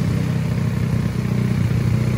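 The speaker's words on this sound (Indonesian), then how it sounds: "Motor sudah bisa hidup ya, motor terlalu lama di gudang akhirnya bisa hidup juga" After repair, a motorcycle engine that sat in storage for a long time runs at a steady idle, loud and close, with a throbbing low rumble and mechanical clatter and no voices.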